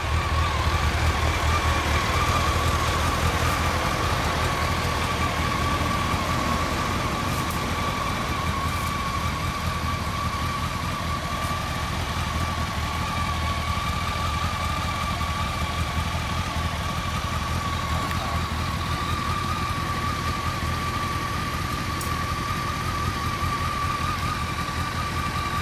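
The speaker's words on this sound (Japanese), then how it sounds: "いや、エンジン音聞かして。" 2014 Honda CBR250R motorcycle engine idling steadily and close by for about half a minute, an even mid-pitched hum with a faint whine, no voices over it.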